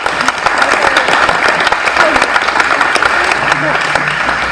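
A crowd of parents and athletes at a school sports awards event applauds loudly, a continuous dense clapping with scattered sharper claps and some voices mixed in.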